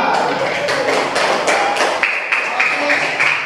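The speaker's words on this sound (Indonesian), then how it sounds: "kita beri tepuk tangan untuk kelas 4" A grade 4 class claps together in an Indonesian classroom, a dense run of quick hand claps and taps going on steadily for a few seconds, close and fairly loud with room noise underneath.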